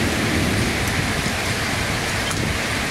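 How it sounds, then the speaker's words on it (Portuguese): Heavy rain with hailstones pounding down, a loud, dense, constant roar of hits close by with no break, and a few sharper impacts standing out from the wash. "Pancadão de chuva. Tá chovendo pedra."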